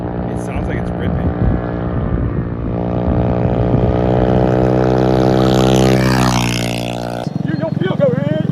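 A scooter engine fitted with nitrous revs hard and loud, its pitch climbing steadily into a high whine before cutting off abruptly near the end, with voices talking over it.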